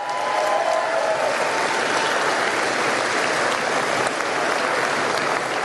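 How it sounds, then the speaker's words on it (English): A crowd at a political rally in Sault Ste. Marie breaks into a round of applause, steady dense clapping that holds at full strength from start to finish with no talk over it. "Give him a round of applause."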